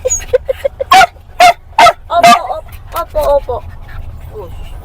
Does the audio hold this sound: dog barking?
yes